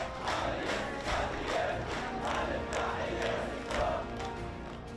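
Crowd at a funeral clapping in unison and chanting slogans, with rhythmic surges of massed voices repeating about once a second, loud and continuous.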